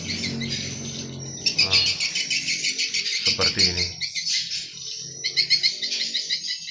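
Swiftlets chirp and twitter in dense, high-pitched bursts at a swiftlet bird house tower, a constant near chorus with louder flurries, while someone briefly speaks over it.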